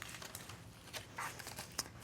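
Crumpled aluminium foil crinkles softly as its edges are folded over while crafting a doll playhouse, with light crackles and a couple of brighter crunches close by.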